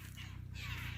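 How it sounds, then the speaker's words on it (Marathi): Crows near a riverside path cawing close by, a short harsh burst of calls that fills the moment without any talk. "भरपूर पक्षी इतके जवळ येतात बघा ते."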